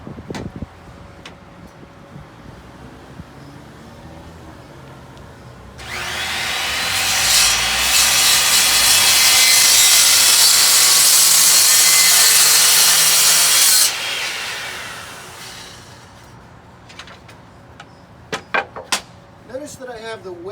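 A power saw cuts through wood for a salvaged skateboard project, a loud sustained high whine lasting about eight seconds, with quieter handling clatter before and after and a voice speaking briefly.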